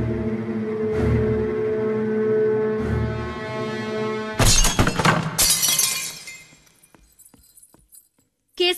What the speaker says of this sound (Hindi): कांच टूटा है